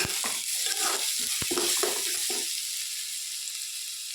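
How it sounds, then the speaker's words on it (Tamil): Onions, garlic, green chillies and curry leaves fry in hot oil with a bright, dense sizzle, first crackling and bubbling unevenly, then settling into a smoother steady hiss; close and alone. "வெங்காயம், பூண்டு, பச்சை மிளகாய், ஒரு 2 பச்சை மிளகாய், கருவேப்பிலை போட்டு நல்லா ஆயிலில் நல்லா ஃப்ரை பண்ணிவிடுங்க."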